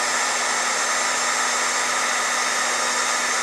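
A metal embossing heat tool with a plastic handle blows steadily while melting embossing enamel powder: a constant, close, loud whooshing hum with no pauses and no talk.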